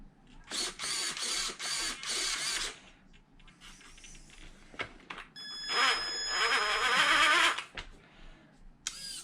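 Traxxas Summit RC truck steering servo whirring in short repeated bursts, close and fairly quiet, with a longer buzzing sweep later on.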